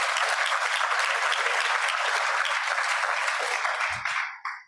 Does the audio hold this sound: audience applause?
yes